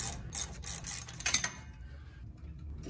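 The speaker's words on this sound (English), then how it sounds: "Wrench bolts back into place through bearing to be attached to bearing bracket." Ratchet wrench tightening bolts through a bearing onto the bearing bracket of a Black Bros 650 adhesive spreader, giving quick bursts of metallic clicking for about a second and a half, then near quiet.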